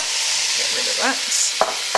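Roasted butternut squash pushed around a hot pan for fall soup, a steady sizzle with a few sharp scrapes of the utensil near the end.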